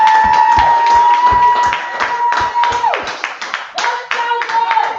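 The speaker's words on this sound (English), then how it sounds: "Keep that round of applause for my friend." Distinct, fairly close handclaps ring out at a poetry slam in Berkeley after a performance, separate and rhythmic rather than a dense roar, over a sustained musical tone that plays through.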